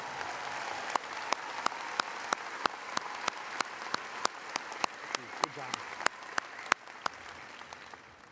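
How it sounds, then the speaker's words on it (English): An audience at a university commencement ceremony claps steadily, a moderate round of applause with sharp individual claps standing out, and a voice briefly speaks over it. "we'll give him a round of applause"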